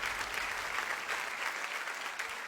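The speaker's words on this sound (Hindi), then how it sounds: "जोरदार तालियां क्लासिकल क्वींस के लिए" Applause from a studio audience on a televised children's dance competition, dense, steady clapping that is loud and close, crowd-like and continuous without any talking over it.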